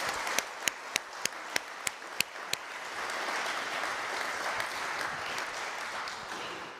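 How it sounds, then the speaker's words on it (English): Several sharp, separate claps ring out first before a room of listeners at a panel discussion joins in, swelling into steady, moderately loud applause that carries on to the end. "I would like you to give a warm round of applause to this panel who helped us surface some very important questions."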